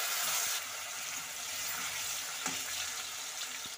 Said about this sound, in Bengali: তো পনিরগুলো আমি হালকা ভেজে নেব